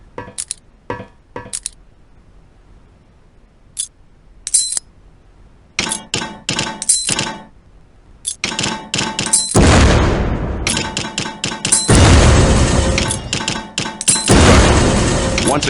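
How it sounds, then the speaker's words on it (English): Practice grenades in the Soldier of Fortune II shooter game clink and clatter as they land on an explosives range, then burst into loud, crackling blasts that run together into a sustained roar of explosions. "This explosives range will help teach you about throwing grenades."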